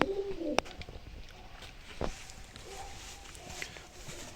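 Pigeons coo softly in a quiet outdoor loft, with a few low, murmuring calls spread across the stretch and some faint rustling or movement between them.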